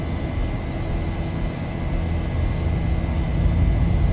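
Airliner engines at takeoff power in the X-Plane 11 flight simulator at LaGuardia, a continuous loud low roar that swells slightly toward the end, with no voices.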